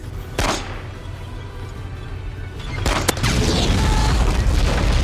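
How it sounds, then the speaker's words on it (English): Mechanoid death explosions in the game Rimworld erupt as loud booming blasts, a sharp burst early on, then a heavier cluster of bangs followed by a sustained low rumble. "you'll want to destroy Inquisitors at range to avoid their fiery death explosion"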